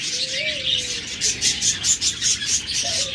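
Cockatiels in a crowded bird shop give off a dense wash of high chirps and tweets, with a few clearer whistled calls rising over the steady chatter.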